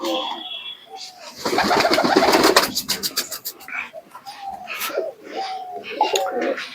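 Golden-eyed Pakistani pigeons coo in soft repeated phrases close by at a pigeon sale, with a burst of flapping wings early on and a person talking at times.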